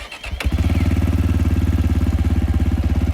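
A 2016 Zongshen RX3 250cc EFI motorcycle engine idles close by after a brief initial noise, with a steady, rhythmic low pulsing throb and no talk.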